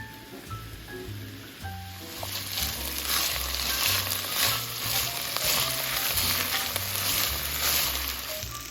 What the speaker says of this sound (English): I start off with a little olive oil and I just saute the veggies.